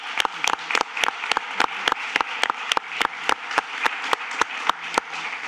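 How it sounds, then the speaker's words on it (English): Audience applause at a debate session of a global summit, a sparse, steady run of distinct claps roughly evenly spaced, moderately loud and close, with no talking over it. "let's give another round of applause for our debaters"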